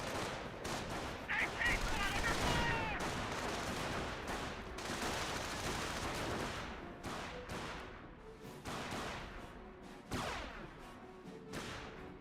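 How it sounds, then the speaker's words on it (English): Gunshots ring out in Company of Heroes 1 as shots land on an anti-tank gun, with crackling bursts and thuds that are loud early on and ease off toward the end. "Good shots there onto the AT gun"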